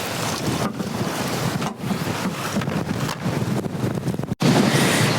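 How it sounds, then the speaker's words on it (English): Gale-force wind of around 40 knots roars and buffets across a sailing catamaran at anchor, a continuous loud rushing with gusty surges and brief lulls, alone with no talk. "Yeah, we're not doing it in this wind."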